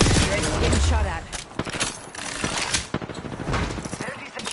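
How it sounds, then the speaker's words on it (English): Rapid video game gunfire rattles in dense bursts and volleys, loud and close, with a voice talking over the shooting. "Getting shot at."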